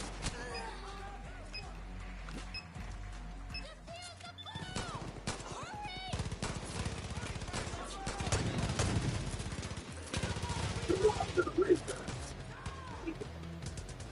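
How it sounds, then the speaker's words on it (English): Rapid bursts of gunfire ring out in a video game battle inside captured walls, with shots, crashes and combat effects layered densely and continuously. "That's a gunshot."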